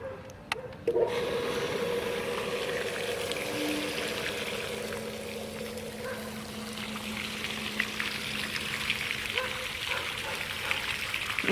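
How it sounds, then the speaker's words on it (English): An Intex pool fountain sprays water steadily with its pump switched to recirculate, a constant rushing splash that stays loud and even throughout, with no talking. "I can get the fountain to shoot almost all the way across the pool just by changing the pump from filter to recirculate"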